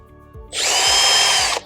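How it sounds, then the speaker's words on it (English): A power drill bores a pilot hole while fixing a door on an Oklahoma Joe's Bronco 2.0 smoker. It gives a loud, close, high whine that starts abruptly and runs for about a second before cutting off, with no talk. "Let's put the pilot hole in for the second one."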